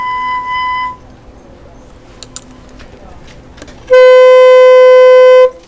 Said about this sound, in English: go ahead and blow into that mouthpiece just like you would on the saxophone